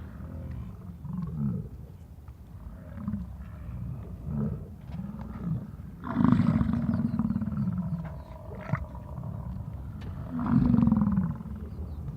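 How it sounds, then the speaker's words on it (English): Male animals at Yellowstone grunt in a steady series of deep, guttural calls, repeating every second or so with a few louder, longer bellows, close and clear over quiet outdoor ambience. "It's the males that are making that grunting noise"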